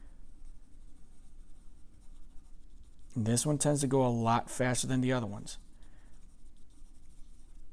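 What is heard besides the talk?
pencil scribbling on paper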